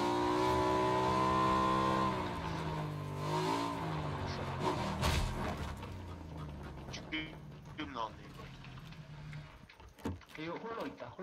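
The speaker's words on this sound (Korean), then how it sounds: "오토바이 타고 갈래 나는." A motorcycle engine revs in PUBG, a steady droning hum that rises and falls in pitch, heard under casual talk between squad players.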